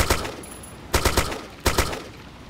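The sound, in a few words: gunfire shooting a player in a video game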